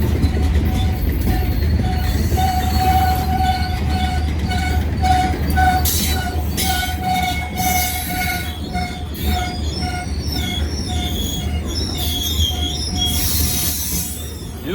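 A General Electric locomotive notches up to climb a hill alongside EMD units, its diesel droning loud and close under a long steady rumble, with shrill wheel squeals and clattering rail cars passing throughout.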